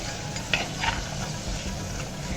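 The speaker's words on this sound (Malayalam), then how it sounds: "തക്കാളി ഒന്ന് ചെറുതായിട്ട് ഉടയുന്നവരെ ഒന്ന് വഴറ്റിയെടുക്കാം" Tomatoes and curry leaves sautéing with drumsticks in a hot pan for a prawn curry, a steady sizzle broken by a couple of scraping stirs, close and fairly loud.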